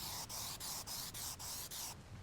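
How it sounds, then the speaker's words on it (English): A spray can hisses paint onto furniture outdoors in short repeated bursts, about seven quick sprays in a steady rhythm, close and fairly loud. "So we better finish this before it gets windy. All right, so I'm going to spray it on."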